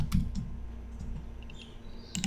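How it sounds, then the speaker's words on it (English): A title is typed on a computer keyboard in a PowerPoint slide. A few soft keystrokes come at the start and again at the end, with a quiet gap between them and no talking. "I'm going to type the title here."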